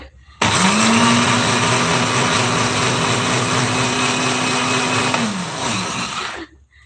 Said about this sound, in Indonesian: bawang merahnya juga di blender langsung aja ya, di blender langsung tadi sama cabai dan bawang putih